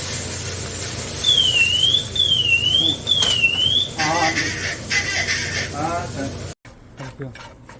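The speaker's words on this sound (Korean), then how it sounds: "화재 경보기가 울렸어요" A smoke or fire alarm shrieks with a rising-and-falling warbling tone in a home kitchen where shrimp heads are frying in butter, then gives way to rapid repeated beeps while people talk loudly over it before an abrupt cut.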